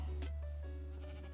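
Sheep bleating in Minecraft: a single short, faint bleat on its own over a steady low hum.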